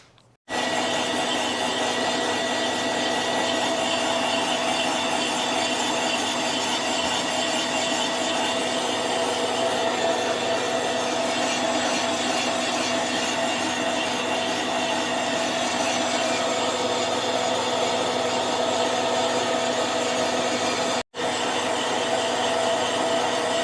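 A boring tool cuts the cylinder of a Yamaha CT-3 with a steady, droning machine whir and a constant tonal hum, loud and unbroken except for one brief dropout near the end.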